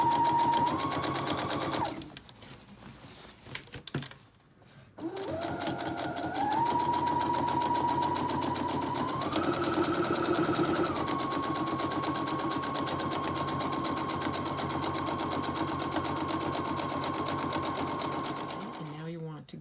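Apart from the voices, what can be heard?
sewing machine sewing blouse facing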